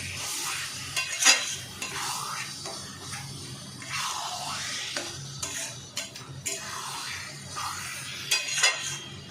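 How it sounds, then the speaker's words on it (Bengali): Taro greens frying in a kadai with spices, stirred now and then, giving a soft continuous sizzle with scraping spatula strokes and occasional metallic clinks. "কড়াতে দিয়ে ভালো করে মশলার সাথে শুকনো করাটাই হচ্ছে মেন ব্যাপার"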